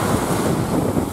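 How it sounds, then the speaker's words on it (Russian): Sea wind gusts past the microphone beside the port of El Kantaoui. The roar is loud and continuous, with surf washing underneath and no voices. "Ветер поднялся на море."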